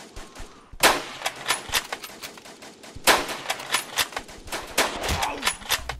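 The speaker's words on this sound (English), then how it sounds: "There's a machine gun in there." Machine gun fire crackles in rapid bursts in the Mount & Blade Warband Iron Europe mod, with loud sharp volleys and scattered distant shots repeating across a battlefield.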